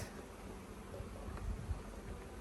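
Honey bees buzz around an opened, newly made hive during a queen cell check, a steady low insect hum at moderate distance with soft handling bumps and no speech.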